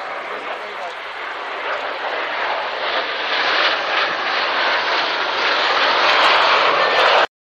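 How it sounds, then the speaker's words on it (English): Aircraft passing at the RAF Waddington air show: a loud, broad engine roar that swells steadily as it approaches, then cuts off abruptly. "it's quite challenging to actually fly these two different aircraft"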